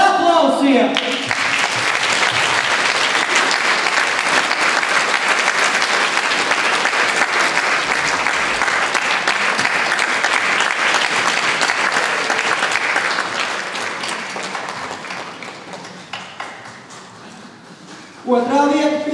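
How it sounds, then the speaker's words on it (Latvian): Sustained audience applause for a third-place singing duet at a music competition awards ceremony, loud and steady for about fifteen seconds, then fading as a voice returns at the end. "Trešā vieta. Hervegenes dziedāšanas biedrības duetām ar aplausiem!"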